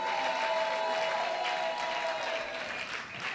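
Congregation at a live church service cheering and clapping in a dense, continuous roar of mixed applause and voices, with a sustained tonal sound beneath, gradually thinning toward the end.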